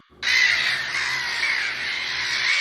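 Crow cawing in a Tamil cartoon, one sustained harsh, raspy call that starts abruptly and holds loud and close for over two seconds, with no speech.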